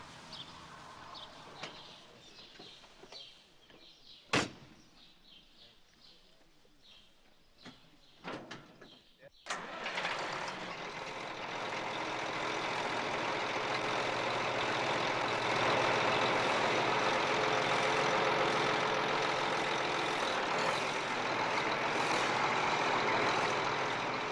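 A large John Deere tillage tractor running in farm country, first with a few clanks and door-like thumps and some talk, then a steady loud engine drone that swells and holds to the end.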